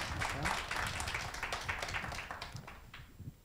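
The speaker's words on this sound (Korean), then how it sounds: "박수 한번 주십시오." A small audience at a Korean startup panel discussion claps after closing remarks, with moderate, uneven individual claps that thin out gradually over a few seconds.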